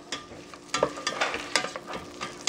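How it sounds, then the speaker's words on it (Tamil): Onion and tomato sizzle in a hot pan while a utensil stirs and scrapes through them in irregular bursts, close by. "ஸோ இது ரெண்டும் நமக்கு நல்லா வதங்கட்டும்."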